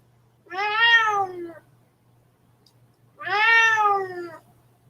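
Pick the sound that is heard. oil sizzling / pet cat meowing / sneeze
pet cat meowing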